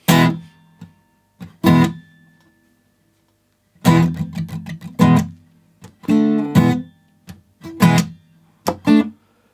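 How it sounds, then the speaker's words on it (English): A guitar plays the middle eight of a song in short bursts of strummed chords separated by brief silences, heard close and alone. "And then we've got a middle 8, which sounds like this."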